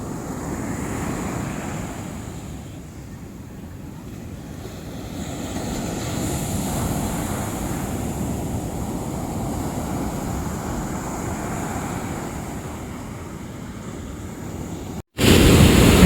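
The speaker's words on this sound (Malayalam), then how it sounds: "വെള്ളം തിര കയറി കയറി വരുന്നുണ്ട്" Waves wash continuously onto Kattadi beach in Alappuzha, a steady broad surf roar with wind buffeting the microphone, ending in a sudden loud gust.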